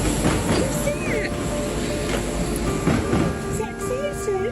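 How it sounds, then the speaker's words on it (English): A train passes nearby with a loud continuous rumble and rattling rail noise, with wheel squeal tones rising above it, while people talk over the din. "You see the train? You see the train? Did you see it?"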